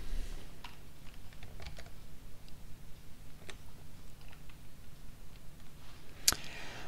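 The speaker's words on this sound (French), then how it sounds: "je sélectionne et j'appuie sur la touche Supr" Computer keyboard keys click lightly and irregularly at close range while rows are selected in an Excel spreadsheet and the Delete key is pressed, ending in one sharper louder tap.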